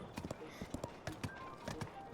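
Hooves of a horse clip-clop at a steady walking rhythm in Zelda: Tears of the Kingdom, close and moderately loud over a busy game soundscape, with a voice faintly present.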